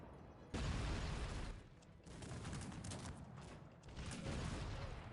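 Bursts of rapid gunfire in the video game Cossacks 3 crackle continuously, loud and close, with brief lulls between sustained volleys and no voices.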